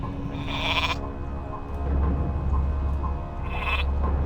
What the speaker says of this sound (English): Going to somebody's wheat field. Sheep here.